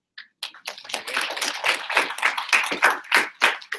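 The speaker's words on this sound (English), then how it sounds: "Is it worth giving a clap to?" A small audience at a training session claps, beginning with a few scattered hand claps that build into a steady round of close, crisp applause before tapering off.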